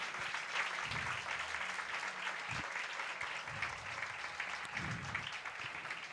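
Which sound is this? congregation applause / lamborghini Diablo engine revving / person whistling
congregation applause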